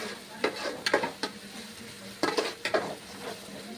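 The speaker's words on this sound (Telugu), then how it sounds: "సో చక్కగా మసాలా అనేది వేగిందండి," Masala frying in oil in a pan for a chicken dish, a soft sizzle under repeated clinks and scrapes of a spoon stirring against the pan in short bursts.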